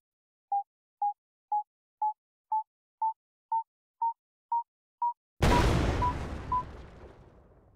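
A row of ten short, evenly spaced electronic beeps, then a loud, sudden explosion booms and rumbles away into a long fading tail.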